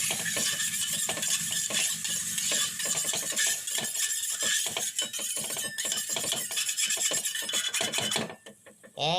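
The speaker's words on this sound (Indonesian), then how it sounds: "kita akan tuangkan air ke dalam loyang tersebut sambil kita gosok terus" Continuous rasping scrubbing against a metal baking pan with water poured in, rhythmic and close, fading to quieter scraping at the end.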